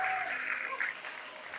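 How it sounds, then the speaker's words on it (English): Brief applause from an audience at a pageant event, a short burst of clapping that fades within about a second and a half, moderately faint with no voices over it. "Round of applause."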